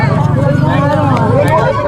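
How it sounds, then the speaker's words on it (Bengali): A dense crowd packs Radhanagar Bridge during an Eid outing, a steady babble of many overlapping voices close by with traffic noise underneath, unbroken for the whole stretch. "দেখো গাইস ব্রিজে কেমন ভিড় হয়েছে।"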